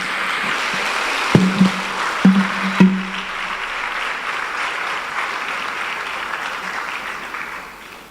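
An audience applauds after a speech about the future of children in Warri, giving steady, sustained hall applause that fades at the end, with a few brief vocal bursts early on.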